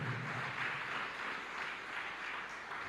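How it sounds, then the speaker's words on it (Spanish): A church congregation at a Spanish-language service claps together in steady, dense applause that holds at an even level for about three seconds. "Denle un fuerte aplauso"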